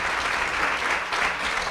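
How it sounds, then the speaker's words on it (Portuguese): Continuous audience applause at an interview event, a dense and even wash of clapping throughout. "grande aplauso para o nosso Ilan"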